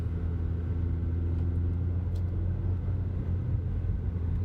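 A budget car drives a winding road on routes 226A and 226, giving a constant low engine and tire rumble from inside the cabin with only small swells in level.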